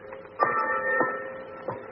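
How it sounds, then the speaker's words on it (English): Ship's fog warning bell at sea, a few faint metallic clangs spaced unevenly over a ringing hum, heard at a distance without talk. "Why is that bell ringing, Lamont? It's a fog warning."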